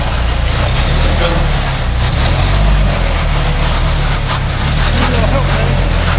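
A Jeep Rubicon 4x4 grinds through a muddy bowl, its engine a loud, steady low rumble that holds for the whole stretch, with people shouting over it.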